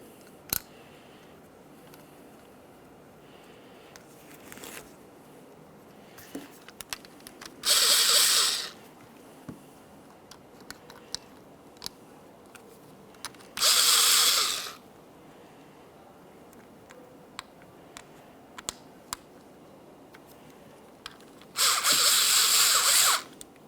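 A power tool whirs in three short bursts while tightening the window regulator mounting bolts on a 2009-2014 Nissan Maxima rear door, with quiet ticks and clicks of handling between the bursts and no talking.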